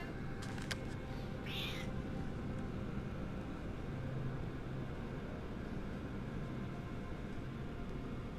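A house cat gives one short, faint meow early on, then falls quiet over a constant broadband background hiss.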